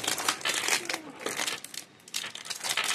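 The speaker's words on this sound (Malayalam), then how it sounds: "ഗിയർ ക്യൂബ് നല്ല കവറിലൊക്കെ പാക്ക് ആയിട്ടാണ് വന്നത്." Plastic packaging around a 3x3 gear cube crinkles and crackles up close, in a steady run of rustling bursts with a brief lull near the end.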